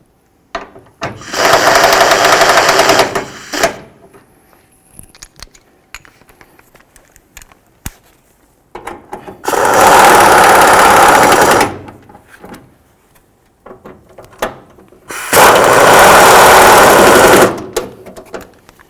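Power tool tightening headlight housing bolts on a 2005-14 Ford Mustang, three loud sustained bursts of rapid mechanical rattling about two seconds each, separated by quieter pauses with faint clicks.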